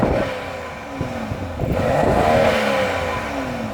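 A BMW X6 35i M Sport with a 3-liter, 300-horsepower twin-turbo engine is revved while parked. The engine pitch climbs and falls in a couple of short, close rising pulls.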